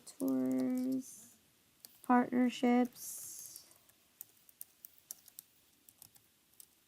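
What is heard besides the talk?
typing on a computer keyboard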